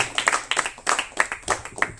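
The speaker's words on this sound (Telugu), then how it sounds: "చప్పట్లు కొడదాం గట్టిగా" A congregation at an evening worship service claps hands loudly in quick bursts, the sharp slaps coming in uneven rhythmic clusters with little else beneath them.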